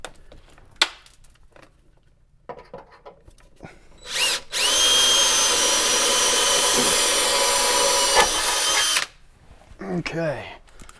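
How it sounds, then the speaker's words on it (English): A power drill whines steadily for several seconds drilling a pilot hole in a Corvette C6 or XLR trunk, loud and close, after some brief handling clatter, then stops with rustling afterward. "I'm gonna go ahead and drill a pilot hole though, just to make my life a little bit easier."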